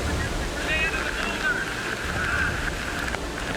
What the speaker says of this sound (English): that's taking the force of this 300-foot waterfall that's coming down on top of us